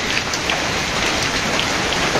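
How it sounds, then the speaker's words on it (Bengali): Light, persistent drizzle falls in a village during the rice harvest, a steady close hiss of raindrops pattering on surfaces with no voices. "এই যে বৃষ্টি কত সময় হয়ে গেল, টিপ টিপ বৃষ্টি এখনো শেষ হয় নাই।"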